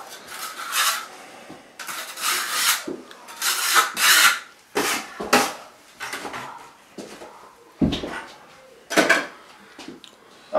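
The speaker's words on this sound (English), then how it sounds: "I'm gonna scrape this." A tool scrapes along an inside corner in a series of rasping strokes, each lasting about a second with short pauses between, close and fairly loud.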